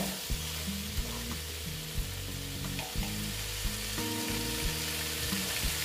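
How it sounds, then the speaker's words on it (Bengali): Squash and potato curry sautéing in a pan, a steady loud sizzle with intermittent stirring scrapes and spatula taps, close and continuous with no voices. "এটাকে কষিয়ে নিচ্ছি, আর একটু কষাতে হবে।"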